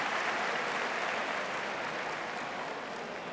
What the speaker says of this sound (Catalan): l'ovació de gala per a Perele primer, que ha tornat 7 o 8 pilotes seguides